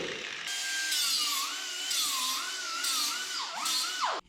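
Power tool cutting sheet metal on a 1967 Toyota Stout truck: a continuous loud, whining grind for about four seconds, its pitch wavering up and down as the cut progresses, then stopping abruptly.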